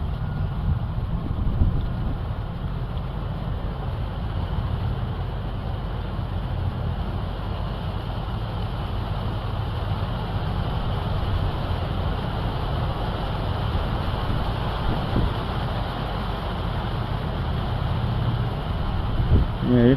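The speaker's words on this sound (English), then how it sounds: "it's a little breezy up here." Wind buffets a microphone on a breezy hilltop at a meditation bench, a constant low rumbling roar that stays loud and steady from start to finish, with no voices.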